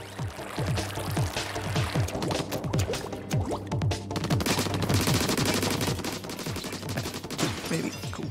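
Rapid gunfire from shooting in a video game, dense bursts of repeated shots running steadily throughout, loud and close with no talk over it.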